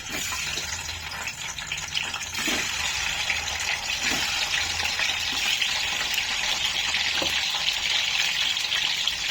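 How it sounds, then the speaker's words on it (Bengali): An egg frying in hot oil in a home kitchen, a steady close sizzle and crackle that runs without pause, with occasional faint stirring clicks and no talking. "আমি একটু ডিমটা ভেজে নেবো।"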